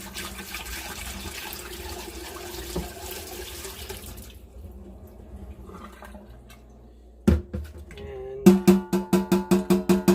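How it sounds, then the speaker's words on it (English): Water and saved vegetable seeds poured back into a kitchen colander make a steady trickling wash that fades, then a sharp splash and a run of rhythmic metallic taps as the colander is shaken or knocked. "just pour it back in the colander"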